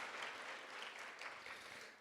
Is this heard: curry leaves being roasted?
no